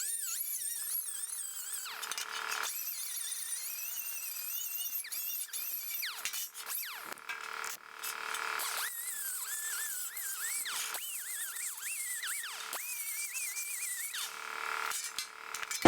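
A handheld grinder lightly skims the edge of a TIG-welded metal panel, a high whining tone that rises and falls in pitch with short breaks as the tool is worked along the edge.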